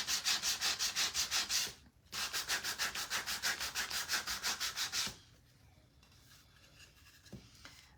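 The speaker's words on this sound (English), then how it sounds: "I think it's time for a new piece of sandpaper" Sandpaper rubs back and forth over wood in fast, even rhythmic strokes, pausing briefly once, then stopping after about five seconds and leaving only faint room noise.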